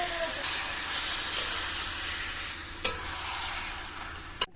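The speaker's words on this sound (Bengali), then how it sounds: "মশলাটা কিন্তু আমার কষানো হয়ে গেছে আর এবারে আমি এর ভিতরে মাংসগুলো দিয়ে দেবো" Marinated meat cooking in a pan of fried spice paste, a continuous hiss of sizzling under stirring, with a couple of sharp utensil knocks near the end.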